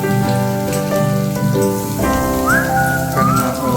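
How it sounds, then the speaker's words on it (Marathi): Malvani aluwadi, colocasia leaf rolls, shallow frying in hot oil give a steady, close crackling sizzle that runs the whole time beneath tuneful background music. "आता पण हे तेलावर सोडून घेतले अळूवडी"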